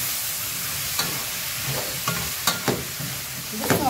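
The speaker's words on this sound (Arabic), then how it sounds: "هبتدي كل ده اقلبه مع بعض كده." Potatoes being stirred in a pan with onions and seasoning, giving a steady frying hiss broken by several scraping clacks of a utensil against the pan, close and alone without talk.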